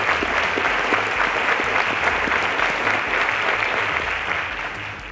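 Sustained audience applause for teachers at the Cowbellpedia mathematics quiz show, a dense, steady wash of many hands clapping at full strength throughout, easing slightly toward the end.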